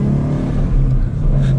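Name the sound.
Ford Mustang GT manual engine revving, exhaust pops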